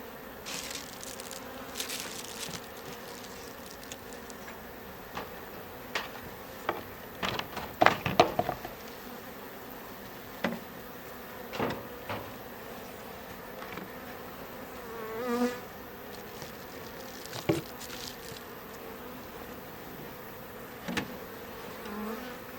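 Honeybees from a woodland colony in Italy buzz steadily throughout, a dense insect drone with individual bees flying close past the microphone in louder passes, no voices.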